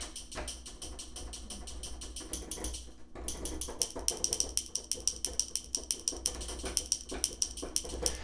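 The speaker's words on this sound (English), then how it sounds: "Screwdrivers. If you whack them together, they make a cool sound like this." Screwdrivers whacked together, sharp metallic clacks struck repeatedly in a quick, uneven rhythm, bright and ringing, close by with a steady hiss underneath.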